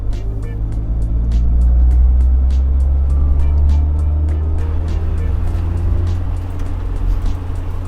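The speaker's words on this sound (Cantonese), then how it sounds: "我係聽到路邊嗰啲沙石啊、草啊、樹葉啊不停啊，去打落架車嗰啲聲音嘅" Gravel, grass and leaves crackle and ping rapidly against the underside of a lowered Toyota Comfort GT-Z Supercharger taxi, scattered sharp ticks over a loud, constant low engine and road rumble, with no talking.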